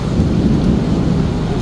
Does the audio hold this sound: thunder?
yes